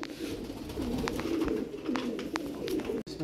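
Pigeons coo in a loft, close by, a continuous run of low, rolling calls overlapping each other, punctuated by light taps and rustles and a brief dropout near the end.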